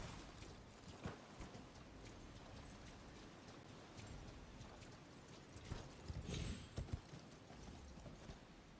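A horse gallops in the video game Elden Ring with a quiet, steady run of hoof clip-clops and a few heavier thuds near the end that suggest a landing. No one speaks over it.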